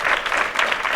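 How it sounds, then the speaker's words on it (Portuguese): A crowd applauds at the end of a live comedy show, a brief second of steady, many-handed clapping, moderately loud and heard alone without voices. "Ao final do espetáculo, muitos aplausos e emoção por parte dos presentes."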